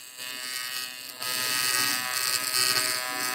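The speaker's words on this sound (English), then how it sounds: "Then we're going to run up normal fillet weld." Welder running a fillet weld: a steady, loud crackling buzz that jumps in intensity after a quieter start and continues unbroken to the end.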